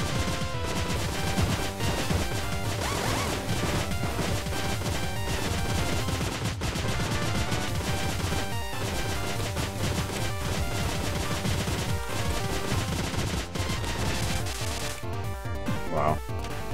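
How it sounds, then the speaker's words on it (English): Dense, continuous machine gun fire from the Cave Story video game rattles on without pause, rapid repeated shots layered over busy game music and effects, loud throughout. "Check out my machine gun skills"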